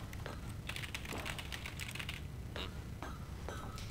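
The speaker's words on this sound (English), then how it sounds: "You see? Hear the keyboards?" Rapid computer keyboard typing in the video game The Stanley Parable, a dense run of clicky keystrokes in bursts, close and steady, with a few brief pauses between flurries and no voices.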